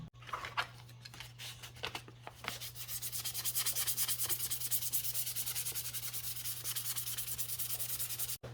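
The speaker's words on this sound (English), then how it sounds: "first thing I'm gonna do is scuff up the lens. That's what the 800 grit sandpaper is for." An amber corner lens from a supercharged 2010 Audi B8 S4 is scuffed with 800 grit sandpaper, making close, quiet, fast rhythmic rasping strokes that settle into a continuous back-and-forth scrub.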